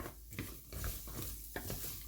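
Pecans tossed and stirred in a pan with a candy coating mixture, soft scraping and light clattering strokes with faint sizzling, close and quiet, no talk.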